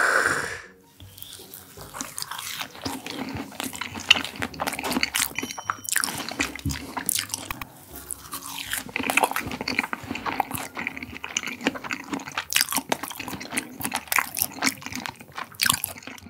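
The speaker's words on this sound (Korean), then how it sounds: "그러면은 운이랑 단새우 해서 한번 먹어보겠습니다" Raw sea urchin and sweet shrimp are chewed up close, with steady wet, squishy mouth sounds and soft crunches continuing throughout, without talking.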